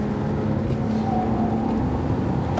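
Bentley Continental Supersports engine pulling hard under load on a track, a loud, continuous low drone with steady harmonic tone throughout, close and alone.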